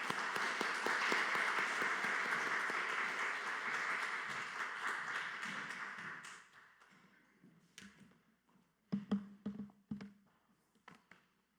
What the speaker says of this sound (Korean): 박수로 영접하도록 합니다.